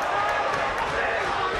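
Boxing crowd roaring at a twelve-round title fight, a dense, loud wall of cheering and noise heard under a commentator's voice.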